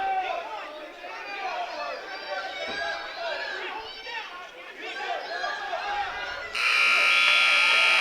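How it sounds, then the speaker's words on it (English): A loud, steady buzzer ends a wrestling period near the end, cutting through an excited high school wrestling crowd chattering and cheering throughout. "There's the buzzer at the end of period 2."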